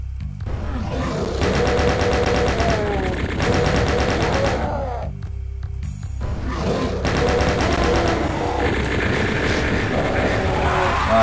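Rapid bursts of chaingunner machine gun fire in a Doom map video game, loud and repeated in long stuttering volleys with a brief pause in the middle, mixed with other game noise.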